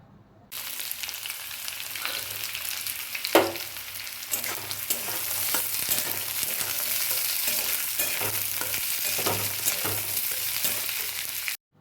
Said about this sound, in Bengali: সব সবজিগুলো ভাজতে ভাজতে ওর মধ্যে সামান্য পরিমাণে ঘি দেব